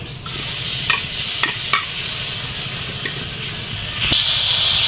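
Dried fish (shutki) drops into a hot pan and fries with a loud, steady sizzle and hiss, broken by a few sharp spatula scrapes and clicks as it is stirred, close up.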